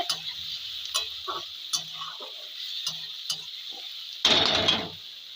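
Cauliflower curry being stirred in a pan, a few soft scrapes and ticks spread through the clip, then a louder burst of sizzling stir near the end that fades out, no voices.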